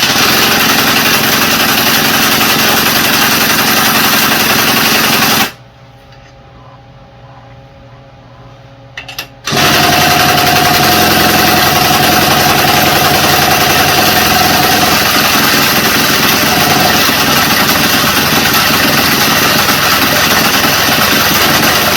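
Troy-Bilt TB227XP tiller engine running steadily at close range, loud and continuous, briefly cutting out for a few seconds mid-clip before firing back up, with no talk over it.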